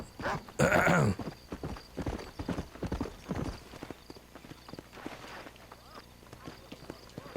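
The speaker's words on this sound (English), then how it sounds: "This is supposed to be my new horse." Horse hooves clip-clopping in the Red Dead Redemption video game, a steady rhythmic patter at moderate distance with a loud burst near the start and brief muffled talk over the first few seconds.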